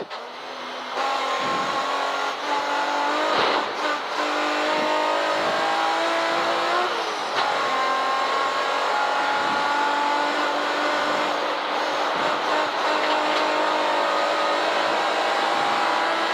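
A race car on the Castle Combe circuit, heard from on board: a loud, continuous engine roar rising and falling in pitch through repeated gear changes and revs, with brief dips as it shifts and lifts.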